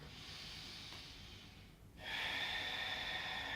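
A slow, deep breath taken during a back-pain stretching session, a soft inhale followed by a louder, airy hissing exhale, close and alone.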